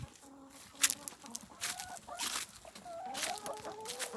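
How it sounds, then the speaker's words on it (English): Backyard chickens in a fenced run cluck and murmur repeatedly, close by, with a few louder squawks and faint background noise. "Chickens are doing good."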